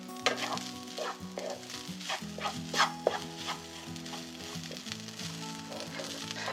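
Rice for shrimp fried rice being stir-fried in a pan, with a steady sizzle and scraping stirs, and a faint dog barking in the background.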